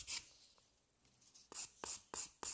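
A nail file rasps across a poligel (master gel) nail in short, quiet strokes, a few isolated swipes and then a quick run of four near-rhythmic scrapes close up.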